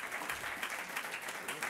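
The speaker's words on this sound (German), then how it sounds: "Ein Applaus bitte" Steady, dense applause from the audience at an IT security conference in Austria, many hands clapping together at an even level throughout, with no one speaking over it.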